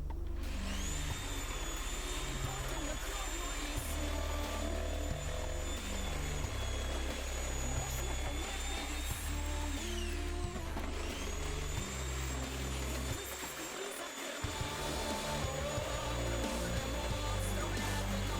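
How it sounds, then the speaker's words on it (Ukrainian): A Fiolent PM3-600E electric jigsaw test-cutting after its rod was replaced, a loud, steady motor whine with a rasping cut running almost unbroken for about eighteen seconds, dipping briefly near the end before resuming. "Все чудово пиляється"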